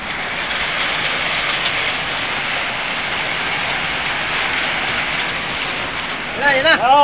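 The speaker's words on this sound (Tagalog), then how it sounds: "ito ng yelo, nagbabagsakan" Hailstones pelt down during a hailstorm in Al Jubail, a dense, continuous hiss of ice striking surfaces at steady loudness, with a brief whistling or voice-like chirp near the end.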